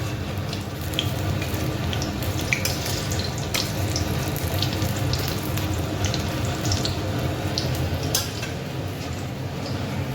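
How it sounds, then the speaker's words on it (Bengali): Eggplant slices sizzling in a hot pan in a home kitchen, a continuous dense crackle and hiss with occasional sharper pops and stirring clinks, steady and close, with no voices. "এখন ভাজছি একটু বেগুন ভাজা।"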